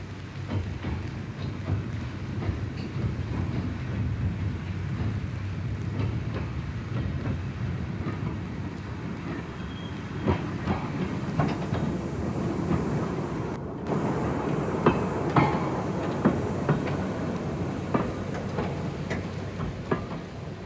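A replica of Stephenson's Planet steam locomotive runs along rails, a steady rumbling roll with rhythmic clicks and clanks of wheels over the track, growing busier toward the end, with no voices.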